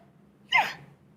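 A person lets out a single sharp sneeze, a sudden breathy burst that fades within about half a second against a quiet room.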